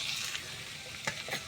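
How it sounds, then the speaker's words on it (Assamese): Potatoes frying in hot oil in a wok over medium flame, a continuous bright sizzle with a few stirring scrapes, close and steady with no talk. "আলুখিনি ৰঙচুৱা হোৱালৈকে মিডিয়াম ফ্লেমত ভাজি ল'ম।"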